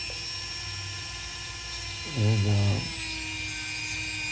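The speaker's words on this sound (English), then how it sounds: "It's a diamond disc on a drill." A diamond disc on a drill cuts a metal peg during a ceramic handle repair, a short high-pitched whining grind lasting under a second, over a steady background hum.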